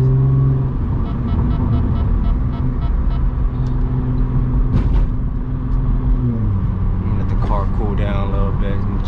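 A supercharged Audi drives through city streets at night, its engine and road noise forming a loud, steady rumble throughout, with a gear or pitch change partway and faint higher sounds near the end.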